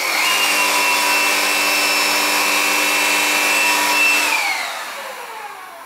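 A Gtech Pro cordless bagged vacuum cleaner running on eco setting, a steady close high-pitched motor whine that holds evenly for several seconds, then winds down in pitch as it switches off.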